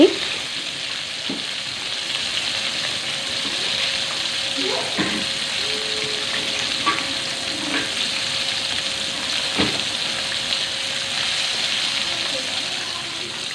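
Steady sizzling of floured catfish frying in hot oil, a constant crackling hiss with occasional pops and light clatter throughout.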